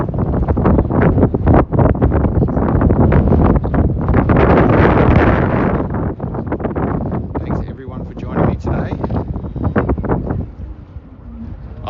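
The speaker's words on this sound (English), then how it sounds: "The wind's blowing the tripod around a bit" Strong wind buffets the microphone at a Disney Wonder Christmas cruise sail-out in Australia, a loud continuous roar and rumble lasting throughout and easing off near the end.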